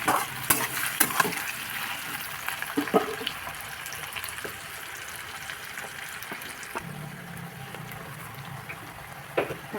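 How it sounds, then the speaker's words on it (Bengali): Chopped onions frying in a pan for a Bengali chicken curry with potatoes, a steady close sizzle with occasional stirring scrapes and clinks, no voices. "পেঁয়াজ ভেজে নেব।"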